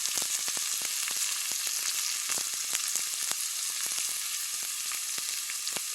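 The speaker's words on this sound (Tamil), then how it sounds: "இப்போ நான் வந்து தேங்காய் போட்டு பொரியல் பண்ணுறேன்" Cabbage poriyal with grated coconut stir-frying in a pan, giving a loud, dense, steady hiss of frying with rapid small crackles and a few faint stirring scrapes, and no talking.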